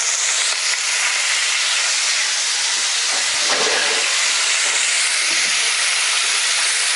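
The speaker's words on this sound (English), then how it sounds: "in our pan we've got 2 tablespoonfuls of extra virgin olive oil, just so that we can lightly fry off our monkfish" Monkfish lightly frying in extra virgin olive oil in a pan gives a steady, loud broadband sizzle and hiss that runs continuously throughout, with no voices.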